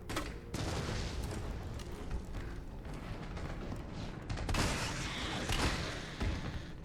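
An explosion goes off in the video game Resident Evil 3 Remake. Dense, loud booming and crackling bursts fill the whole stretch, with a few brief dips between blasts.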